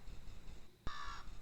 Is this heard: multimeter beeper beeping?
no